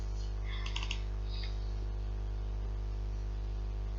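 Two quick mouse clicks opening a batch file while setting up a Minecraft server on a Windows PC, faint and close, over a steady electrical hum with no talk.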